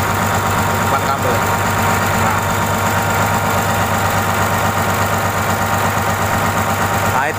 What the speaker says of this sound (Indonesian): Ini kondisi engine idle ya, tidak digas ya.